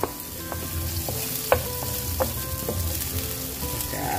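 Garlic, ginger and vegetables sauté in a hot pan for a beef and shrimp with broccoli stir fry, giving a steady close sizzle punctuated by a few sharp utensil clinks and scrapes.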